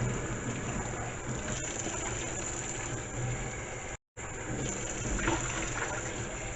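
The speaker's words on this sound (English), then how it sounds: "We're going to rinse out a couple times." Water splashes and trickles quietly and steadily while a container is rinsed out, with one brief dropout of silence partway through.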